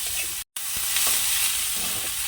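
Ginger, green chilli and garlic paste fries in a pan with a steady close hiss, briefly cut off for a moment, with faint stirring.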